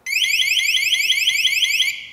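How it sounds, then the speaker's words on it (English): A Piaggio Vespa scooter's factory alarm, set off by the key fob panic button, wails loudly in rapid repeating electronic sweeps that rise and fall, then cuts off abruptly. "if you just press that panic button right there,"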